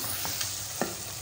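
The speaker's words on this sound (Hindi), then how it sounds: "लहसुन अदरक डाल के अच्छी तरह हिला दिया क्योंकि वे पक जाए" Garlic and ginger frying in a pan for a green chilli chicken masala, with a steady low sizzle and a few soft scraping stirs of a spoon against the pan, close by and without talk.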